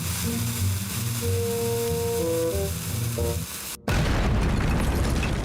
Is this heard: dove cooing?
no